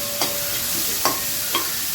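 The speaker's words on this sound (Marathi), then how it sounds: "आणि चांगलं परतवून घेऊ, म्हणजे कांदा लवकर नरम पडेल।" Onion sautéing in a pan, with a soft steady sizzle broken by three brief scrapes of a spoon stirring it, close and fairly quiet, with no voices.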